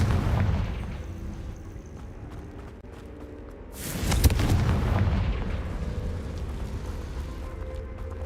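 A Confringo spell explosion in Hogwarts Legacy: a single loud, booming blast with a burst of crackle, followed by a rumbling fade, over quieter game ambience.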